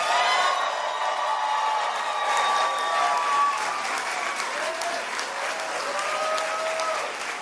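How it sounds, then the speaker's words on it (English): Sustained applause from a big crowd, dense clapping continuing evenly throughout, with faint whistles and cheers mixed in. "please join me in giving them a big round of applause"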